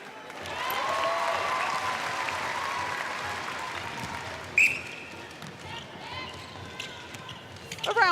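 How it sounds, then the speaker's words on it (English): Applause from the team bench at a Netball World Cup 2019 match between Australia and Malawi, a steady wash of clapping under arena crowd noise with commentators talking over it, fading after a few seconds. "A round of applause from the bench."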